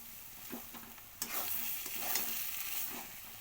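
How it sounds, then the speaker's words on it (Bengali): Vegetables coated in a flour and besan mixture sizzle in a pan, with a few spoon scrapes and a steady frying hiss that swells midway. The sound is close, and no one speaks. "তো এটাকেও আমাকে কিন্তু বেশ ভালো করে কষাতে হবে"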